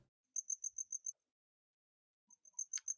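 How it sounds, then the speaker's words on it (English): Loud outdoor crickets chirp close by in two clear bursts of rapid, evenly spaced pulses, with a short silence between them and no talking. "Because there's some very loud crickets."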